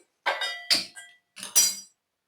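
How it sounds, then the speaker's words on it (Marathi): Metal pot set down on a lit gas stove: a few sharp clinking knocks and scrapes in quick clusters, close and fairly loud, with silence between and no talking. "गॅस पेटवून पातेले ठेवते"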